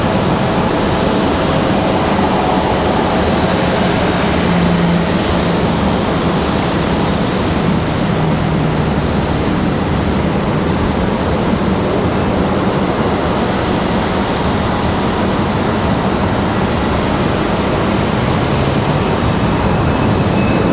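A JetBlue jet airliner at Raleigh Durham airport gives off a steady, broad engine roar that holds loud and unbroken throughout, with no talk over it.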